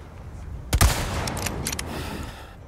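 A rifle shot in the 2023 Resident Evil 4 remake lands a headshot: one sharp, loud crack followed by a brief rattle of clattering impacts, then fading ambience.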